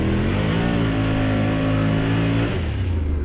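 A Can-Am Outlander XXC 1000R ATV engine revving loud and close on a muddy Florida trail, a sustained rising drone that drops in pitch near the end.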